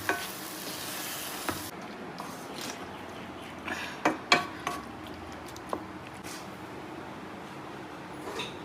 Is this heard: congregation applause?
no